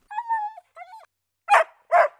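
Small dog giving two thin whimpering whines followed by two short sharp barks, close and alone with no other sound.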